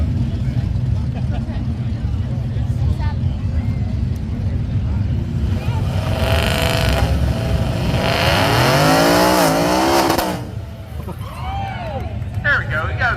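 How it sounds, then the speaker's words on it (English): A drag racing truck does a burnout at Byron Dragway, engine roaring steadily and then climbing in rising revs to a loud peak before cutting back, with a voice talking over it. "he got his burnout completed"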